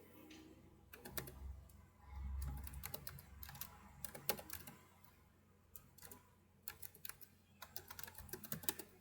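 Quick, irregular taps on a calculator keypad as a sewing pattern measurement is entered, in short clusters of clicks over a low background hum, with no talking.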